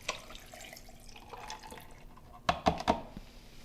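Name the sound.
pouring watermelon into cocktail shaker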